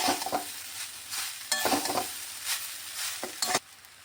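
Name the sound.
mixing flattened rice poha in a pan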